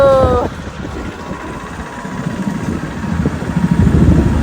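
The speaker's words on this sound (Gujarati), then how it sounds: "સજોભાઈ બાઇક ચલાવે, હું જોડે બેઠો આવી હેડ્યા ઘરે." A motorcycle carries two riders home from a village well, its engine running with a steady mid-pitched drone that swells toward the end, loud and close.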